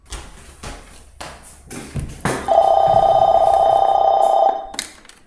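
An office desk telephone rings with one loud, sustained electronic bell tone lasting about two seconds, preceded by clicks and handling noises on the desk.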